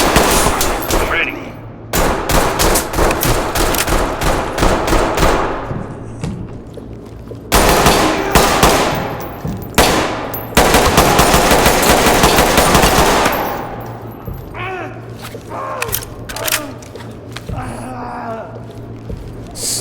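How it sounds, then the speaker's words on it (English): Gunfire in the tactical shooter video game Ready or Not: dense, loud bursts of close automatic fire and single shots in several long volleys, with brief pauses between them and a quieter tail of scattered shots. "I already pulled the trigger because he was pointing the weapon at me into my general direction"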